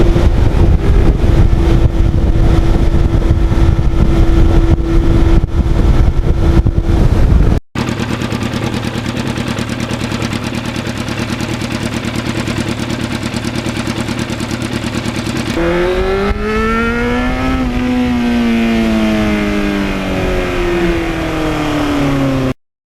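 A 1991 Yamaha FZR 1000 with an Evil Twin exhaust muffler runs loud and close, a rough steady idle that gives way to rising and falling revs.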